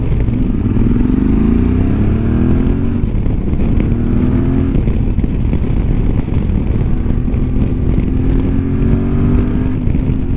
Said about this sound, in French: Il est péchu ce moteur, je le trouve vraiment bien.